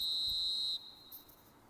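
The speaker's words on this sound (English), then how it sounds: "The whistle's gone, and that's it for the first half." A referee's whistle ends the first half in a football video game, a single long shrill blast lasting under a second, loud and clear against faint crowd ambience.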